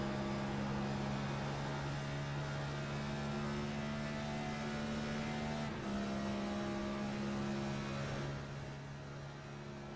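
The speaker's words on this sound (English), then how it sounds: "I don't know why his car got so loud." Loud, steady NASCAR stock car engine in the iRacing sim during the Coke 600, a sustained drone with a slight shift midway and tapering at the end, with no talk over it.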